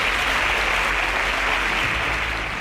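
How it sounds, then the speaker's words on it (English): Audience applause at a Nigerian televised competition show, a dense, steady round of clapping that fills the whole moment evenly from start to finish, with no voices over it. "Please can we give them a round of applause?"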